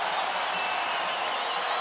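Basketball arena crowd at a 2017 Gonzaga versus BYU game cheering and applauding after an and-one basket, a dense, sustained roar of claps and shouts filling the whole moment without letup.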